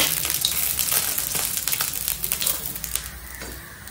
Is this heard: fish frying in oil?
yes